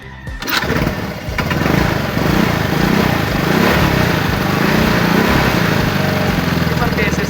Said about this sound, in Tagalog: Sisipaan ko na lang tita upang malaman natin kung andar ba ito o hindi.